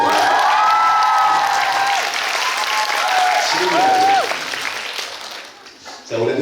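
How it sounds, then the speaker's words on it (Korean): Loud, dense clapping from a camp audience at a quiz game event fills the room, with a host's amplified voice talking over it before the applause fades and breaks off. "이때 박수를 쳐주세요."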